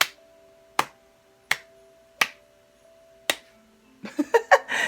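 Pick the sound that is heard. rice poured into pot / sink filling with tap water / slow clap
slow clap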